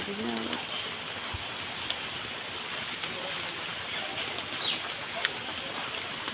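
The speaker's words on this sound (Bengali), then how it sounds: "বাইরে তো একদম বৃষ্টি হচ্ছে আজকে মনে হয় না বৃষ্টি থামবে" Steady rain hisses outside, a continuous wash of falling drops with a few faint bird calls and sporadic small knocks, no voices.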